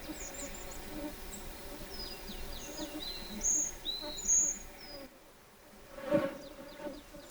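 A honeybee buzzes close at a flower in a wild forest setting, a continuous droning hum under scattered chirping bird calls, with a brief quieter gap before the buzzing returns.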